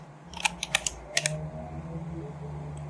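Code typed on a computer keyboard in a Java NetBeans project, a few quick clusters of key clicks near the start, then a quiet room hum with no talk.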